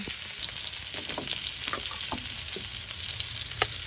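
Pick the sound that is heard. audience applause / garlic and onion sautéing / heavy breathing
garlic and onion sautéing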